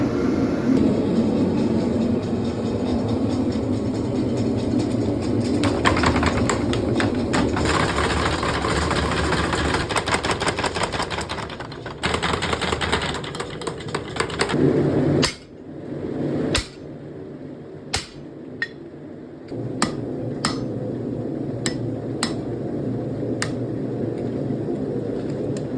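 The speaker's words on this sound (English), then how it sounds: "starting the forging process for the gouge." Heavy rhythmic hammer blows forging hot steel into a violinmaking gouge, a steady run of loud metallic strikes over a low mechanical drone, then sparser ringing single hits after a pause.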